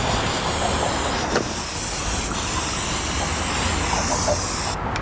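Primer sprayed from an aerosol can onto metal pipe flashing for a tile roof, a steady close hiss running without a break for several seconds with no talk.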